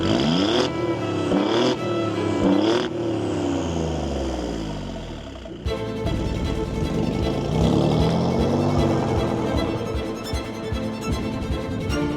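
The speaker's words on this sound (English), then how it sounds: "go and drive this magnificent car" A 2022-era Alfa Romeo Giulia Quadrifoglio sports sedan drives past, its engine note sweeping up and down as it accelerates. The car is loud and close, with a sharp shift midway into a steady, busy roar and no talking.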